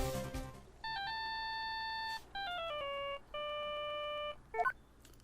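A phone ringtone in the Phoenix Wright video game plays as three clear electronic tone bursts separated by short gaps, each a stepped melodic chime, ending with a quick blip.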